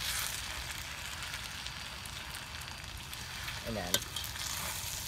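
Eggs frying in a pan for mee goreng, a spicy Indian-style fried noodle dish, give off a steady, close sizzle throughout. A voice speaks briefly near the end.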